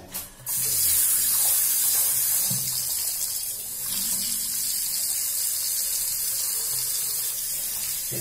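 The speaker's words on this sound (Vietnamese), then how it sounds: "Nước nóng xuống không?" Hot water from a solar water heater tap gushes steadily and loudly, a constant close hiss and splash from start to finish with no talk.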